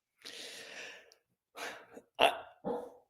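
A pet dog barks in a few short, separate bursts with breathy gaps between them. The barks sound moderately quiet and somewhat in the background of a room, with no talking.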